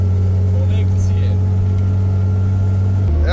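An old Fiat/Zastava 750 (Fićo) car, said to have broken down, drones loudly with a steady low engine hum while driving, its pitch dropping at the end as it shifts or slows.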